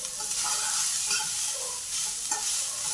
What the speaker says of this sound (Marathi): आणि थोडी काळी मिरी आता टाकते मी. हे छान मिक्स करून घ्यायचं आहे त्याला.